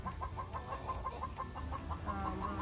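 Chickens dust bathing cluck softly in a quick, repeated rhythm, fairly close but quiet, over a low steady background hum.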